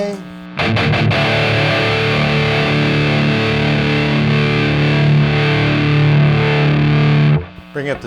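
Heavily distorted electric guitar through a Marshall amp rings out loud, sustained chords for several seconds after a few quick muted strums, then cuts off abruptly.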